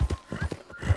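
Horse hooves clip-clop in an even, quick rhythm in Red Dead Redemption 2, close and distinct with a faint whinny-like tone mixed in.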